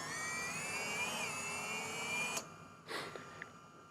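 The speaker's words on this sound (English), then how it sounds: "You can hear the motor speeding up there." Racing drone motor spinning without propellers on the Airgineers Tyrant S, a thin high-pitched electric whine that rises slightly, then cuts out abruptly with a couple of faint clicks and a brief rustle afterward, no talking.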